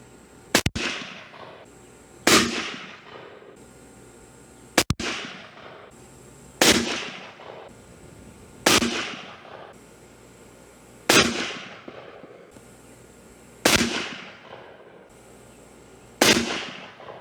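Eight sharp rifle shots fired while fire forming brass for a 40-degree shoulder, each a loud crack with a decaying tail, spaced roughly two seconds apart at the range.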